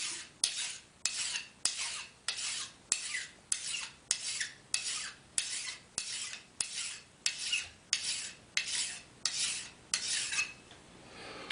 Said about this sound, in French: Je lime toujours pareil. Jamais en va-et-vient. Que dans un sens.